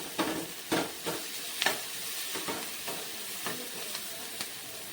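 Onions and garlic sautéing with salt in a pan, a soft continuous sizzle broken by regular spatula stirring scrapes, close and moderately quiet with no talk.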